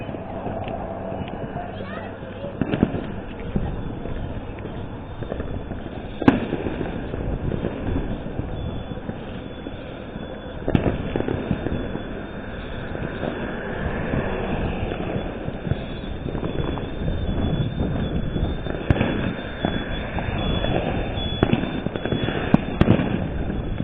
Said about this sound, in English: I hear these big concussion explosions and it draws my attention